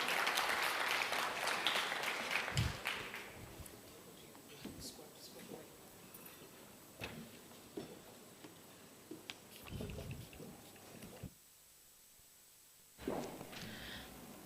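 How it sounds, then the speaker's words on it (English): An audience applauds to welcome a speaker onto the stage at a fireside chat, a dense clapping burst that is loudest at the start and then thins into scattered claps and room noise. "Please, a round of applause to Caroline."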